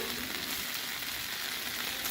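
Vegetables for sausage and peppers sizzle steadily on a Royal Gourmet 36-inch flat-top griddle, a constant hiss and crackle at moderate level with no talk over it.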